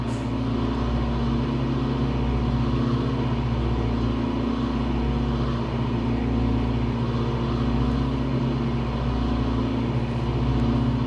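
A Cessna 414 twin-engine aircraft in Microsoft Flight Simulator drones steadily and loudly with a low, even engine rumble that holds constant throughout, with no talking.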